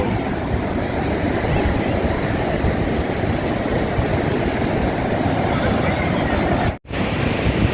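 Waves break steadily at Pakala beach near Singarayakonda, making a loud, continuous roar of surf mixed with wind. The sound cuts out briefly near the end.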